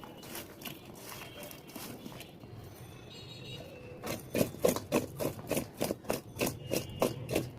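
Raw mango pieces being rubbed and mixed by hand with plenty of salt and turmeric powder, soft scraping rustles at first, then a run of louder rhythmic squelchy rubs, close and alone.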